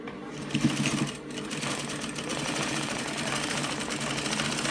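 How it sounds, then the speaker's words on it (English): A sewing machine stitches a single welt pocket to its pocket bag, running in a steady, continuous close whir for several seconds with a faint voice briefly underneath. "place it under my machine, then I'm going to sew"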